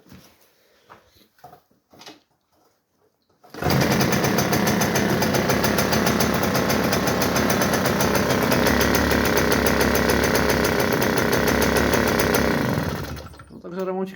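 A Romet Komar moped engine kicks into life after some quiet handling noises, then runs loud and steady with a rapid buzzing two-stroke rattle close by for about nine seconds before cutting back.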